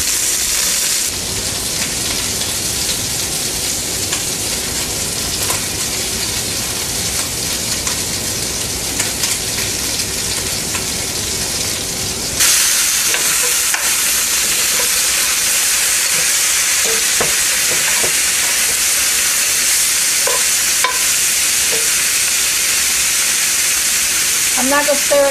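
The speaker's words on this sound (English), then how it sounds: "I'm not going to stir it a whole lot because I don't want my sausage to start to fall apart until it gets some heat on it." Squirrel sausage fries in a pan, a steady close sizzle like rain on a surface that grows louder and brighter midway, with occasional scrapes and clicks from light stirring and no talking.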